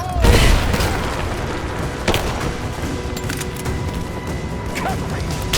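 Dense gunfire in the video game Rise of the Tomb Raider, with booming shots and bursts layered over a continuous loud battle din, a heavy blast at the start and another sharp hit near the middle, with shouting voices mixed in.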